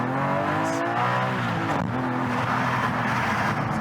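Porsche Cayman GT4 with the 4-litre naturally aspirated flat-six from the 992 Carrera, turbos removed, mid-engined, revving loud and close with a sweeping, rising and falling engine note throughout.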